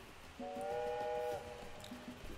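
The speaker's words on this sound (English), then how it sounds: "Yeah, lay off the train whistle." A train whistle in the Tropico 6 city-building game sounds once as a steady, chord-like tone lasting about a second over a faint, quiet game background.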